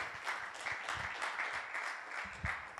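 Audience applause for a speaker at a talk on disability and digital technologies, a faint, steady patter of many hands clapping at a distance, with no talk.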